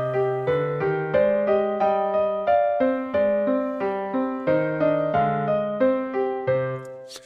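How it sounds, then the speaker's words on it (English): Vocaloid 5 synthesized voice carrying three layered motif lines, a steady pulsing sequence of bright sung notes with stacked harmonies, clear and uninterrupted by talk. "And on the right-hand side is vocaloid 5, which has three motif lines"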